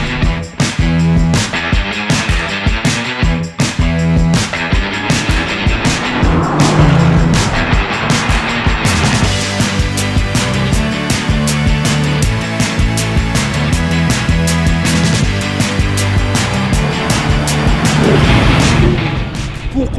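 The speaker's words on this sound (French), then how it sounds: "Ah, c'est génial, le V8 AMG quand même." Mercedes-AMG GT S coupé V8 engine accelerating hard, a loud, dense roar building steadily with shifting tones and sharp crackles throughout, close and continuous with no talk over it.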